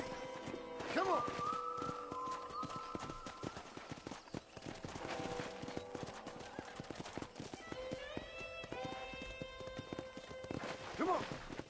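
Hooves clip-clop steadily as a horse is ridden around a ranch in a video game, with whinnies and neighs breaking in near the start and the end, and game music and a voice talking over it.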